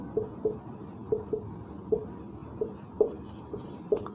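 Chalk or marker strokes on a classroom board during a physics lesson on atomic models, a series of short scratchy taps and squeaks in an irregular rhythm, close and fairly quiet, with no talk over them.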